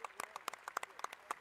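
Sparse, fairly quiet applause in a gym at a girls high school basketball championship game, individual claps distinctly audible in an uneven rhythm, with no talking.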